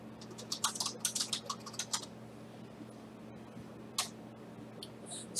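Keystrokes on a computer keyboard rattle close by in a quick irregular burst for about two seconds. A lone click follows after a pause, over a steady low hum.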